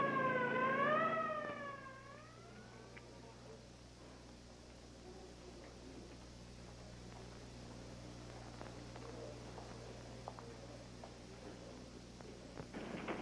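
An ambulance siren at a 1972 stock car race track wails in rising and falling sweeps for about two seconds, then fades into a quiet, low background hum.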